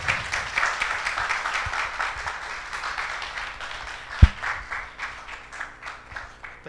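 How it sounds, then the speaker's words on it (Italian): An audience applauds steadily in a continuous wash of clapping, with one sharp louder knock partway through and no clear voices over it. "Complimenti, facciamo un applauso"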